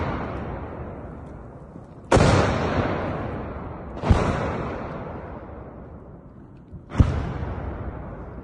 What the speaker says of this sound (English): coming under heavy Russian artillery bombardment near the front line